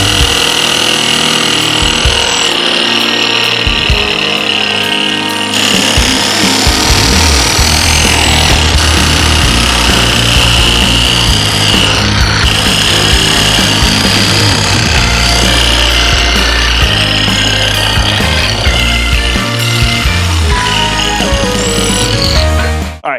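A power tool cuts through Harley-Davidson Sportster parts during a tracker build, a loud, close, harsh grinding whine that runs continuously with shifts in pitch and load and no talking.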